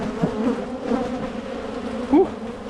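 A dense cloud of honey bees hums and drones continuously around an opened hive during an inspection on a ranch, close and steady, with a sharper buzz of a single bee passing near the end.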